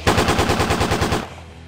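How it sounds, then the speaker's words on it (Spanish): Machine gun fire in the video game Lucky Dog 1: a loud, rapid burst of evenly spaced shots that runs for about a second, then stops abruptly into a faint, fading tail. "Era una ametralladora que había tirado por ahí."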